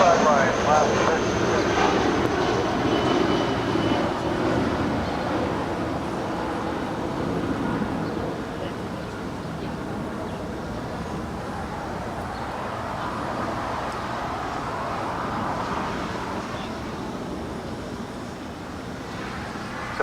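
Avianca Airbus A319 departing runway 25 right at Los Angeles International Airport, its engine roar rising and then receding over about twenty seconds, with road traffic rumbling in the background.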